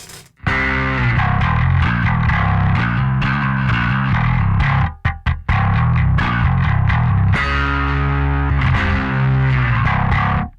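An electric guitar through a BOSS MS-3 overdrive preset plays loud, gritty chords and riffs with a brief stop midway, the distorted tone sustaining and ringing out at the end.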